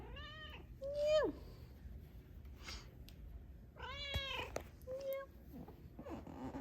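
A kitten meows several times indoors, short rising and falling cries spread across the clip, fairly close but soft, mixed in with light background sound.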